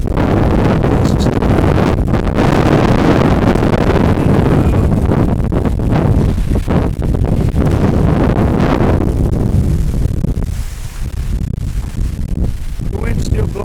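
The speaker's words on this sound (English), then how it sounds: "the wind's still blowing a little bit" Strong wind roars steadily against the microphone during Hurricane Ian, a continuous loud buffeting rush that eases slightly near the end.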